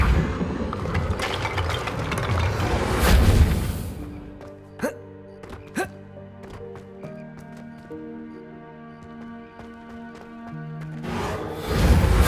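A Reparo repair spell cast in Hogwarts Legacy, a whooshing magical burst followed by clicking, ratcheting chimes and sustained shimmering tones as the pieces reassemble, ending in another swell.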